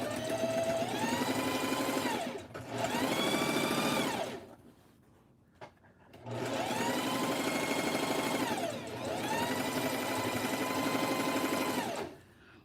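A serger sewing machine stitches fabric in two long runs of loud, close whirring hum. Each run speeds up and then slows down, with a brief quiet pause and a light tap between them.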